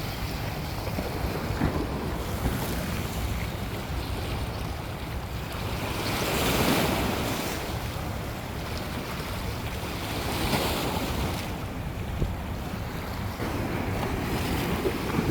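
Seawater waves crash and splash steadily along the rocky shoreline at Fort Wadsworth beneath the Verrazano-Narrows Bridge, a loud continuous wash of surf with gusts of wind buffeting the microphone and surges around the middle.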